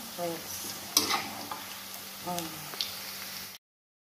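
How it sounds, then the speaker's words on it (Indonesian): Sweet tempe frying in a pan in a home kitchen, a soft steady sizzle with a few sharp clinks of a utensil stirring it, close by, with brief talking over it. "Ini goreng tempe manisnya tuh, mantap kan ya."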